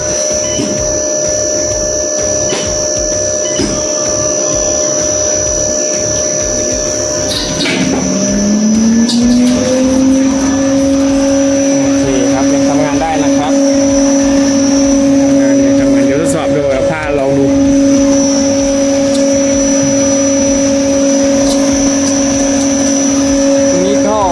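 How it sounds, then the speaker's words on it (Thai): Suction fan inside a Bioaxel BA100 machine under repair starts up and spins up to a steady, loud whirring hum with a strong tonal drone that holds for the rest of the clip over background machine noise. "พัดลม ดูด อากาศ"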